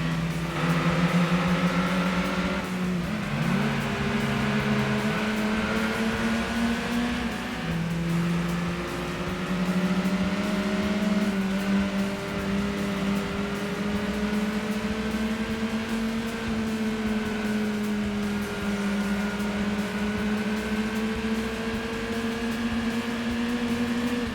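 A TVR race car engine in Gran Turismo 2 drones steadily, its pitch rising and falling through gear changes as it accelerates, with a continuous mechanical hum throughout.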